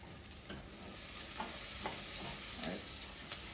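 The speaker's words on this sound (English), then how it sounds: "Onions are coming along nicely." Onions fry gently in a pan, a faint, even sizzle with soft scraping stirs every half second or so, quiet and close, with no voices over it.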